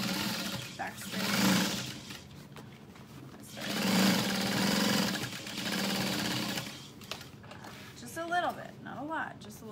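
A sewing machine stitches a bag seam with a half-inch allowance, running in several bursts of steady whirring separated by pauses, close and clear, with soft handling clicks and fabric rustle near the end.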